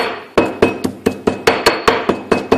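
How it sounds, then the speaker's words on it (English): Spices including cumin pounded and ground for spare ribs, a run of about ten sharp, loud, evenly spaced strikes with slight clinks between them, close up and with no talking. "you have to just grind everything up so the flavors will mix up"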